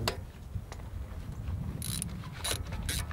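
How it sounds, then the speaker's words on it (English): A 5/8 magnetic socket wrench loosening a spark plug, with close, quiet ratcheting clicks and a few bright metallic scrapes and rasps, no talking. "Now pull out the first spark plug."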